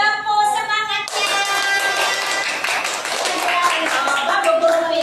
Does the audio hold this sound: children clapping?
yes